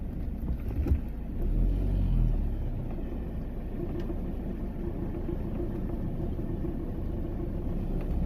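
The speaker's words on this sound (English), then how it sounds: "Cars coming." Cars approaching along a narrow country lane in the Forest of Dean, heard from inside a campervan as a steady low engine rumble with a swell of passing traffic early on.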